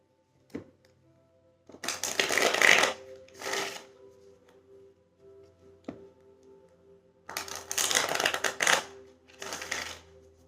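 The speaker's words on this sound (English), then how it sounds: "Pull one more card and we will finish this read." An oracle card deck is shuffled in two close, riffling bursts separated by quiet, with small taps and card handling in between and no talk.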